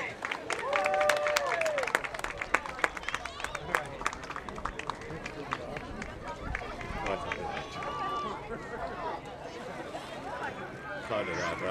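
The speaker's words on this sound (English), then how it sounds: "Round of applause," A crowd at an outdoor charity plunge in Brattleboro breaks into applause and cheers, clapping mixed with lively talk and shouting nearby for the whole stretch.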